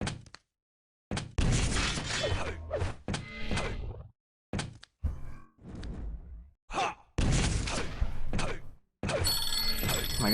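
A telephone rings amid the clatter and thuds of a live grand-final broadcast of a 125 FPS gaming cup, its tone arriving in short bursts between other sharp noises, with a steadier ringing tone near the end.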